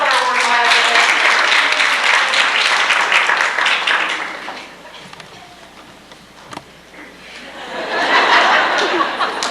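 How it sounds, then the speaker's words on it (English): A convention audience claps to welcome a guest, loud applause that fades into a quieter stretch of murmuring, scattered chuckles and a few isolated claps, then swells into a second burst of clapping. "Clap for her. Show her we're glad to have her."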